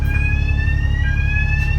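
A bus wheelchair request bell sounds inside a route bus during a morning check, a steady loud electronic two-tone buzz held without a break over a low engine hum.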